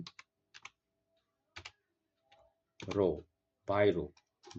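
A computer keyboard gives short, sparse bursts of key clicks while a formula is entered, with gaps of quiet, and a voice talks over the later part.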